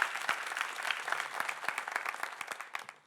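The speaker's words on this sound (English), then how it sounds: "you get several applause" An audience at a film pitch event claps steadily, a dense, moderately distant applause that thins slightly toward the end.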